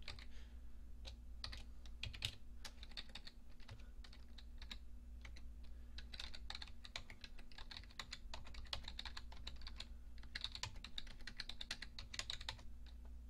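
Quick, irregular keystrokes clatter on a nearby computer keyboard as a website URL is typed, a soft steady run of clicks over a low hum, with no talk.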